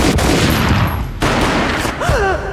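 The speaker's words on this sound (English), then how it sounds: "A gunshot boomed and she fell down in slow motion." Gunfire in the Max Payne video game: loud, dense booming shots fired in a rapid burst that fills the moment, followed by a short vocal cry near the end.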